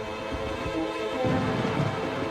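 Rain patters steadily while low rumbles of thunder roll underneath, with a deeper swell building toward the end.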